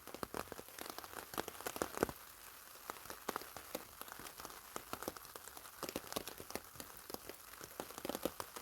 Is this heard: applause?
no